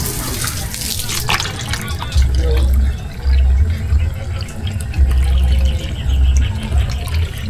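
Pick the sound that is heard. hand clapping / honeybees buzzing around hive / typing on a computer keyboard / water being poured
water being poured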